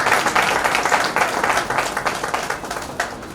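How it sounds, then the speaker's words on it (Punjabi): Loud, steady applause from an audience at a church ordination service and certificate distribution, with dense clapping that fills the whole moment and eases slightly toward the end. "ਜ਼ੋਰਦਾਰ ਤਾਲੀਆਂ ਮਾਰਾਂਗੇ"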